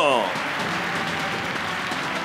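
An audience at an Atomy master promotion ceremony on stage applauds steadily in a broad, even wash of clapping, with a speaking voice briefly heard over it at the start.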